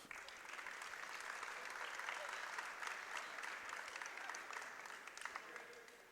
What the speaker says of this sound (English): A nice round of applause, please, Miss Amanda Kaiser.